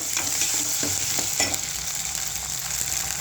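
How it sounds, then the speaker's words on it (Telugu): Onions with ginger garlic paste frying in hot oil, a steady close sizzle with occasional stirring scrapes throughout, no voices. "ఇదిగో ఉల్లిపాయలు వేసాను. ఉల్లిపాయలు వేగాలండి."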